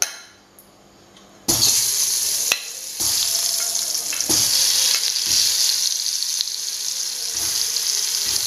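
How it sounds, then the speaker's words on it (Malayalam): Mango pieces go into a pan of Kerala-style pulissery curry, setting off a sudden loud burst of sizzling that continues as steady frying and bubbling with occasional stirring knocks. "നമുക്കിതിലേക്ക് മാമ്പഴം ഇടാം."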